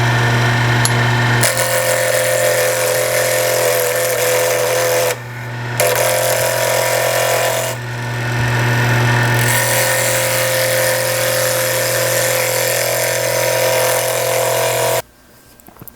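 A wood lathe spins a seam ripper blank from a Penn State kit, giving a loud steady motor hum with rough cutting noise, briefly dropping around five and eight seconds before it cuts out near the end.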